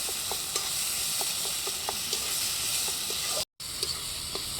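Mustard flower paste stirred as it fries in oil, with a steady close sizzle and hiss under soft, repeated scrapes of the spoon, broken by a brief silent gap near the end.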